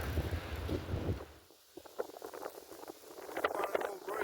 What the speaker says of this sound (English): Keeps getting windier and windier though